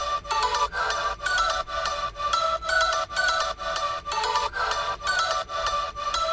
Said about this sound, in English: And then we have this pluck sound here.